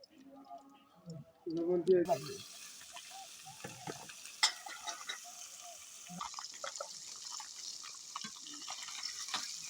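Fish frying in oil in a wok makes a quiet, steady sizzle, with a burst of handling noise near the start and a person talking intermittently over it.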